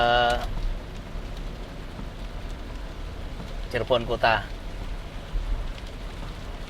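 Heavy rain falls on a road near Cirebon, a steady hiss running throughout beneath a brief voice at the start and a short vehicle horn-like tone midway.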